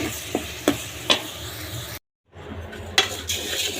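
Vermicelli fries in a pan with a moderate sizzle as a utensil stirs it with repeated scraping strokes; the sound drops out briefly midway, then resumes, with no talking.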